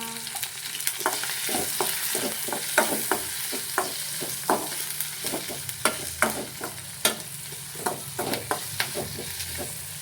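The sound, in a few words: frying and stirring with salt and turmeric, egg biryani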